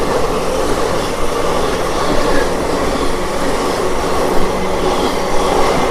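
The Narsapur–Nagarsol Express rumbles past close by, a loud, steady roar of rail cars with faint clicking wheels throughout.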